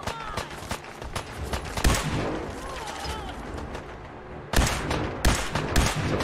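Gunfire in Fallout 4 on Xbox Series S as the player fights a super mutant: sharp shots crack out in bursts, a cluster early and another volley near the end, over a busy game soundscape.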